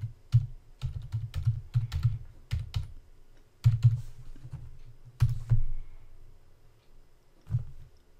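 Keys clack on a computer keyboard in quick bursts of typing, close and crisp, separated by short pauses.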